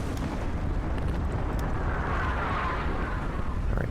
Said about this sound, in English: Firing on convoy escort, firing on convoy escort.